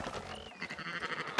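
Sheep bleat in the Red Dead Redemption 2 video game, a short wavering call amid busy farmyard ambience and background game sounds.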